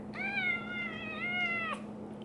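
A hyperactive young female house cat gives one drawn-out, close meow with a slight rise and fall, against a low steady hum.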